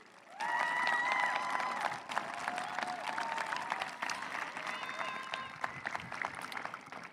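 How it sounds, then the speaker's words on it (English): Graduation audience at Mountain View High School applauding family and friends, a dense, sustained wash of clapping from a large crowd that swells quickly and holds steady, with scattered cheers mixed in. "give a round of applause to your family and friends who have supported you"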